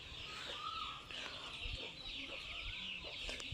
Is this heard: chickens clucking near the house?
yes